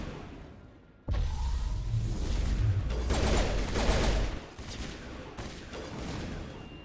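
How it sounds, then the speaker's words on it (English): Sustained gunfire in Mass Effect Legendary Edition erupts after a second of quiet, dense rapid bursts with heavy low thumps and whooshing shots, loud and continuous before tapering slightly. "Dude, stop shooting!"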